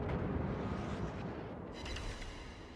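Heavy naval gunfire from the rear turrets of the Großer Kurfürst battleship in World of Warships, a loud sustained rumbling boom that rolls on across the whole stretch with a sharper burst near the end.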